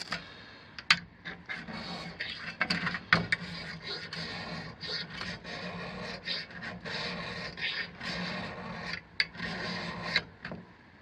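A ferro rod is scraped over and over to throw sparks, giving rough, rasping strokes in irregular bursts, close up and moderately loud, with no voices over it.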